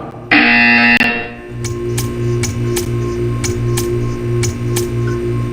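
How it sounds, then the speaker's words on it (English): Buzzer sounding in the video game Portal 2: a loud, steady electronic drone holding for several seconds under a faint regular ticking, with no voices present. "You will hear a buzzer. When you hear the buzzer, stare at the art."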